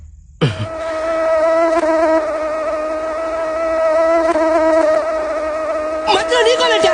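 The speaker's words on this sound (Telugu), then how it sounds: "bloody idiot mosquito" Steady, loud mosquito whine in a comedy film scene, a continuous tonal buzz with stacked harmonics that holds for several seconds and wavers slightly near the end.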